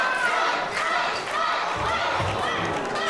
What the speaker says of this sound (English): Shaw not allowing Kai to build any momentum from the crowd noise here